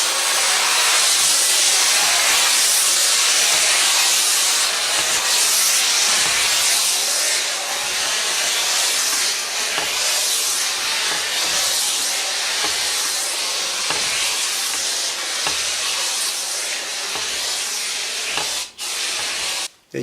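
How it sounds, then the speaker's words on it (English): A Comforday handheld steam cleaner blasts steam in a loud, continuous broadband hiss that holds steady for nearly twenty seconds, with only slight wavering before it cuts off at the end. "That does generate some good steam."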